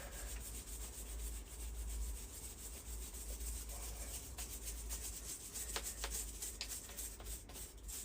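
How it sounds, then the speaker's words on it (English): A wire brush scrubs over cedar bonsai wood, producing quiet, close scratchy rubbing strokes in an uneven rhythm with a few sharper scrapes, no speech. "Just going to give it a quick clean with a wire brush"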